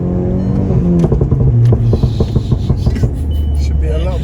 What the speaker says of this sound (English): Every time it's popping and banging, it's chucking out flames.